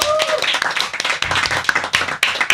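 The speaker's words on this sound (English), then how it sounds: "Round of applause." A small group claps for Angelica after she is introduced, a short burst of scattered, fairly close handclaps with some voices mixed in.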